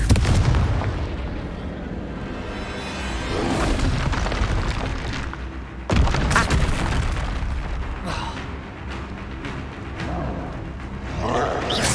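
Confringo fire spell explosions in the Hogwarts Legacy video game, loud booming blasts recurring over a dense, rumbling battle mix with a sharp burst near the middle.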